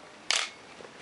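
A Pentax K film SLR fires its shutter at 1/250 second, one sharp, close mechanical snap followed by a short rattling decay in an otherwise quiet room.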